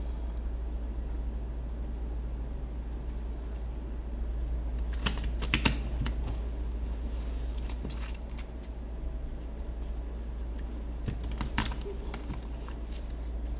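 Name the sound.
deck of playing cards being shuffled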